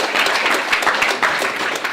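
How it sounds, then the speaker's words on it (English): An audience at a hackathon live demo event gives a round of applause for a speaker, with dense, lively clapping from many people up close that carries through without pause. "So can we give Nadeem a round of applause"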